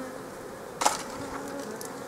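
A honeybee buzzes near a hive during queen introduction and pollen collection work, a low steady drone with one brief louder burst partway through, with no talking.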